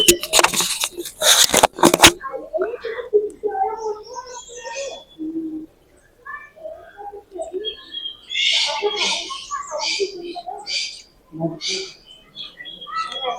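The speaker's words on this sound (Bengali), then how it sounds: "পাখিদের সাউন্ড শোনাই" Various birds call in a bird park at Pelling, West Sikkim, with scattered, fairly close chirps and tweets coming in intermittent bursts after a loud burst of rustling handling noise at the start.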